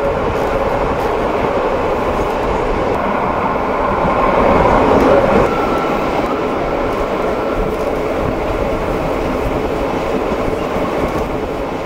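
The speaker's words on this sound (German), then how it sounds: "Die Rückfahrt erleben wir im Pullman-Salonwagen der ersten Klasse, der über eine außergewöhnliche Laufruhe verfügt." Rhaetian Railway first-class Pullman saloon car rolling smoothly along the track, a continuous low rumble and steady rail hum heard from inside the carriage, loud and unbroken for the whole stretch with no voices.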